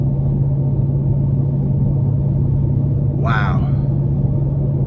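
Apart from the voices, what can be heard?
2023 Dodge Challenger Widebody Jailbreak engine revving while driving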